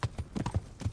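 Quick clip-clop of horse hooves in the video game Kingdom Come: Deliverance, about six sharp beats in a fast, even rhythm, close and clear.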